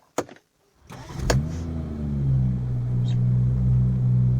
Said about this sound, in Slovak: z dvojice zadných výfukov sa ozve naozaj mohutný zvuk